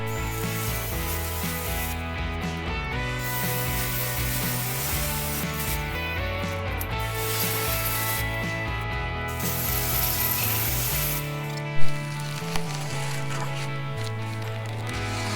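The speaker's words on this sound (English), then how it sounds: "I gotta level this thing with our farm jacks real quick" A farm jack ratchets while leveling a cargo container being set up as a laundry room on a homestead, giving steady repeated mechanical clicking against a dense, continuous background, with a couple of sharper knocks near the end.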